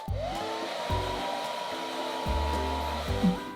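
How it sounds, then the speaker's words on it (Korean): A handheld hair dryer blows on hair, switched on and off in several bursts of steady whooshing airflow with a tonal whine, close and fairly loud, with no talk. "드라이기로 머리를 말려주면 돼요"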